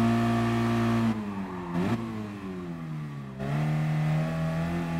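Mazda Roadster S engine in the Gran Turismo Sport racing game, a steady mid-pitched drone that dips and shifts as the car lifts off and changes gear, then climbs again under load, loud and close with no talk.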